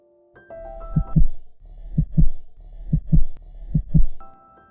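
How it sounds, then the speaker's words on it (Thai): A heartbeat sound effect thumps in four evenly spaced double beats, loud and close, over a soft sustained musical drone. "หัวใจเต้นแรงเลย"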